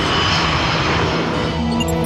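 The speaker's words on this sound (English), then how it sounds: "So there are planes taking off and landing constantly." Aircraft engines roar steadily near a busy international airport handling constant takeoffs and landings, a dense continuous drone with a faint rising tone near the end.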